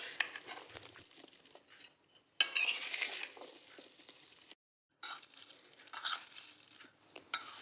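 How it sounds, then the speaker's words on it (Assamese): Jujube pickle ingredients being stirred together in a bowl, a close scraping and clinking of a spoon against the bowl in uneven bursts, with a brief silent gap partway through. "এয়া গোটেইখিনি মিক্স কৰি দিছোঁ।"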